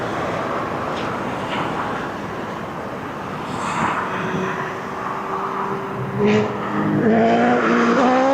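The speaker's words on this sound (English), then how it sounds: "Someone's got a motorbike." A motorbike engine near East Midlands Airport revs up toward the end, its rising whine standing out against a broad outdoor rumble.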